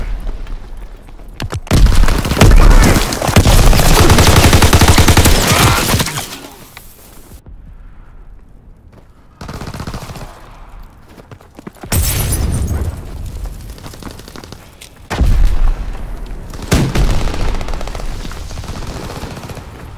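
Wartime battle in Call of Duty WWII: loud, sustained machine-gun bursts and heavy booming explosions come in several long waves, separated by brief quieter gaps.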